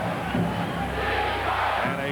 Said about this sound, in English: And a chant of defense for the first time tonight.